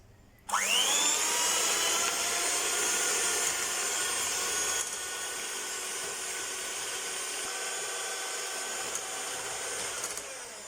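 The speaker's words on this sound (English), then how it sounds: "now we're going to add in our eggs, and then we're going to turn our mixer" An electric hand mixer beats eggs into banana bread batter for a pecan nut and banana loaf, a steady close whirring drone that starts abruptly and runs without pause, with no talking.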